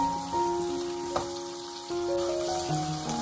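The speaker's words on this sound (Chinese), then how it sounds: "我们煎五花肉的时候要不停地翻动，然后晃动一下锅" Pork belly frying in a wok, giving a steady close sizzle with some crackle and a few clanks of the pan as the meat is turned and the wok is shaken.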